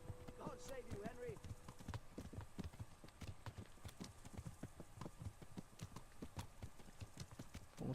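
Horse hoofbeats from a medieval role-playing game ride, a quick rhythmic run of clip-clop steps close and steady throughout, with a brief voice and other noise early on.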